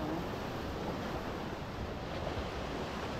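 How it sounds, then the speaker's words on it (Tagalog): Strong ocean waves at high tide roar steadily along a fishing shore, a constant dense surf rush with some wind on the microphone and no voices. "ngayon nga po ay high tide. Ayan. Malakas ang alon."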